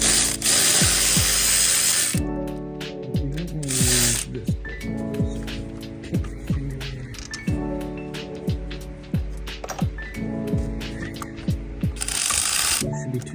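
A hand ratchet wrench loosens a part on a 1994 7.3 IDI diesel truck, giving repeated close clicking bursts of ratcheting strokes between pauses, with short sharp metallic clacks and some rustling.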